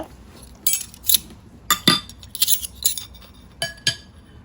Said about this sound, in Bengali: আমি এই যে ভাতটা এখন প্রত্যেকটাতে এখন চামিচ দিয়ে দিব